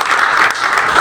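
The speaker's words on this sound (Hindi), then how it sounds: "जोरदार तालियां।" Loud, dense applause from a live audience at a Raipur music performance, a continuous wash of many clapping hands, close and sustained throughout.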